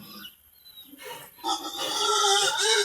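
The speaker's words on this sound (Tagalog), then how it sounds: "Hilak na nga akong baboy." A pig squeals loudly in a sustained, rising cry that starts after a quiet opening and continues to the end, close by with no talking.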